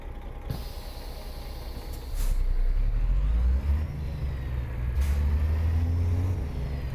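International Lonestar truck engine in American Truck Simulator starting up with an air hiss, then settling into a deep idle that rises as it revs, loud and close with no talk.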